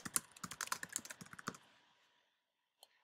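Typing on a computer keyboard: a quick run of close, crisp key clicks for about a second and a half, then silence and one final isolated keystroke.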